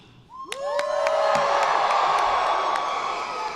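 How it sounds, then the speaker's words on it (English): A commencement crowd at Sam Houston State University bursts into loud cheering, with rising whoops and shouts that swell within a second into a sustained roar of many voices and a few claps. "And you can cheer loudly."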